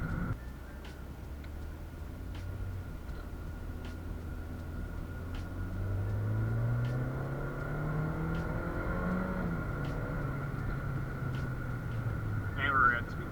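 Fiat 124 Abarth sports car accelerating from inside the cabin, its engine note climbing steadily in pitch as it gathers speed, then settling into a moderate hum at cruising speed.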